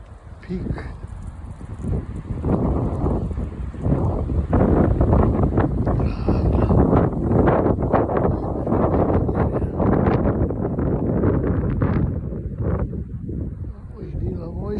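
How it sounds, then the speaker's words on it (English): Strong gusting wind buffeting the microphone on a mountain hike up Hermits Peak, a loud continuous roar that rises and falls, with a person talking over it. "It's windy."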